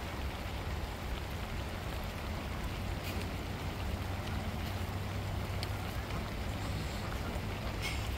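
Heavy rain falls steadily in a village during the monsoon, a dense continuous hiss and patter with a low rumble underneath, unbroken throughout.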